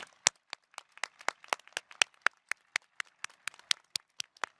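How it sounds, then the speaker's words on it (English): Scattered claps from a graduation audience at The College of New Jersey ring out in an irregular, sparse rhythm, sharp and fairly close, with no voices over them. "Please join me in applauding their contributions to the college."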